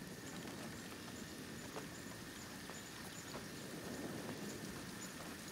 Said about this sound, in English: We got a beautiful sound of the rain in our ears at all points in time.